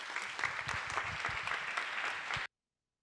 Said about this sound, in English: Let us give them a warm welcome round of applause